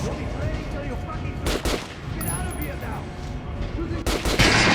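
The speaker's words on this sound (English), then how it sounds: "Now shoot the armored dummy." Gunshots hit an armored training dummy in the first-person shooter Metro Last Light Redux: two sharp, separated shots over a steady low background rumble and faint ambient noise.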